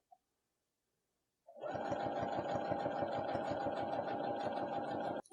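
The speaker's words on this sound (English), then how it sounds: "go ahead and bring your foot down and continue to sew all the way across" A sewing machine stitches across a cloth napkin: after a second and a half of near silence, its motor starts up into a steady, fast mechanical chatter of needle strokes that runs evenly for several seconds before stopping abruptly.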